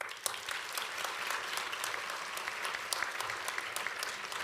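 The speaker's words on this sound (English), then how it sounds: "we have a big round of applause for all our graduates today" Applause for graduates at a 2022 LINC graduation ceremony, a sustained wash of crowd clapping with occasional crisp individual claps, heard from some distance at moderate volume without speech.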